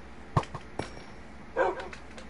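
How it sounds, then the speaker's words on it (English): A Minecraft wolf barks a few short yips in a game, with a couple of quick sharp barks followed by a slightly longer burst, fairly faint and without talk. "You're the best wolf, I mean."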